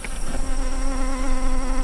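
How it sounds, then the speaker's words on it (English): Honey bees buzz steadily around a line of 60 hives, a dense, continuous drone from a huge swarm, close and fairly loud, with no voices. "That's a line of 60 hives and well over 2 million bees."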